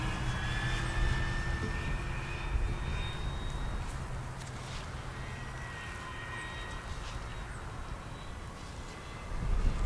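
An E-Flite P-51D Mustang 1.5m RC plane flying at half throttle, a steady distant engine drone with slowly shifting pitch that rises slightly in loudness at the end, heard alone with wind in the background.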